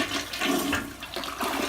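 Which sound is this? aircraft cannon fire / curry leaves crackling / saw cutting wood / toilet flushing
toilet flushing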